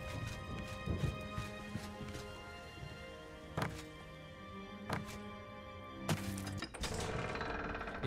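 A horse's hooves clip-clop in The Elder Scrolls IV: Oblivion, irregular hard knocks against a soft background of game music, some steps louder and closer than others.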